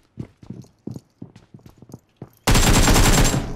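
Rapid automatic gunfire from PUBG Mobile empties a magazine in one loud continuous burst, following a run of quick rhythmic footsteps.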